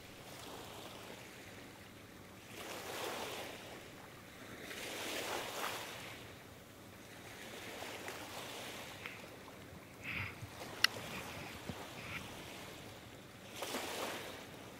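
Ocean waves roll in the video game Star Ocean The Second Story R, heard as soft, rhythmic swells of surf rising and falling every few seconds under a faint breeze, with no talking.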